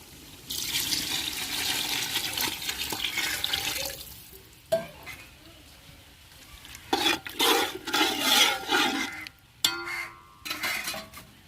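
Water boiling hard in a cooking pot while mutton biryani is prepared, giving a steady bubbling hiss in uneven waves, broken by a few sharp clanks and stirring sounds, with no talking.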